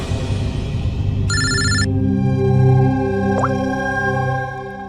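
A short electronic ring tone sounds once, a bright tonal chirp over a sustained humming drone that fades toward the end.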